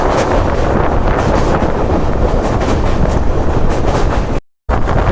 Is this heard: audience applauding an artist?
no